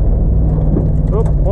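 Camaro IROC-Z autocross car engine stuttering and breaking up while starving for fuel in corners, a continuous rough low engine drone heard from inside the car with a voice talking over it.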